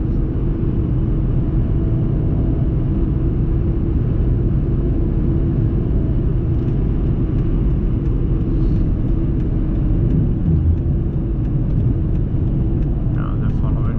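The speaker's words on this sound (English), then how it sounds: "it's a V8 engine. Gives me more oomph." A car with a V8 engine drives steadily, its low rumbling engine and road noise continuous and loud throughout, close up inside or near the vehicle.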